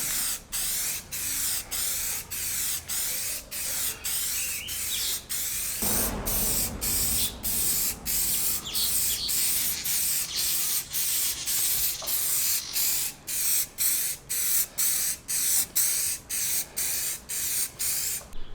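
A spray can lays peel coat onto chrome trim in repeated short hissing bursts, close and regular, with a brief rustle between passes and no talking.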